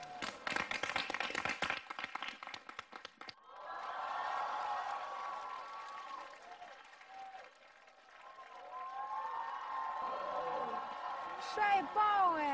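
Studio audience applauding and cheering to welcome a singer on stage at the Singer 2017 show, with a loud burst of clapping at first, then music and crowd noise with voices.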